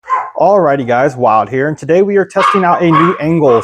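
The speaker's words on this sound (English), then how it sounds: "Sorry about the dogs barking in the background," Dogs bark intermittently in the background of an indoor room while someone talks continuously over them, the barking partly masked by his voice.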